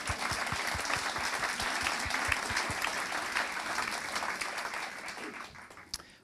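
Audience applause at a talk on harassment, a steady wash of clapping with a few distinct hand claps near the front, gradually fading toward the end.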